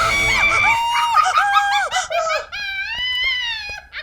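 A woman screams alone at night in an empty house, a loud sustained shriek with wavering pitch broken into several bursts, then one long final cry.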